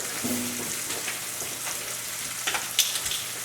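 Steak sizzling steadily in a frying pan, a close, continuous hiss with a few small crackles and utensil clinks near the end.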